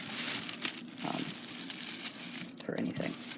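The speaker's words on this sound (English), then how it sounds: "Gonna put that pot in a plastic bag" A plastic bag crinkles and rustles in bursts as a houseplant pot with old soil goes into it, under a person talking.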